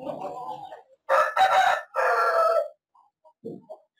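An Aseel rooster on a poultry farm lets out a loud, close, drawn-out crow in several strained bursts, with brief talk just before and faint sounds trailing after.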